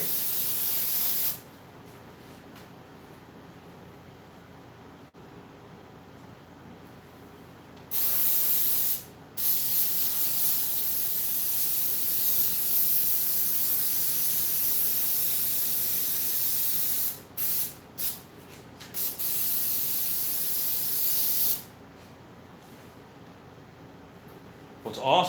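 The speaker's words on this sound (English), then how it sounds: "Just spraying." Adhesive is sprayed in long, loud hissing bursts, several sustained blasts separated by short pauses and a few quick taps, with soft room noise between.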